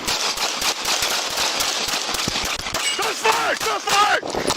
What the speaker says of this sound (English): Gunfire! Gunfire!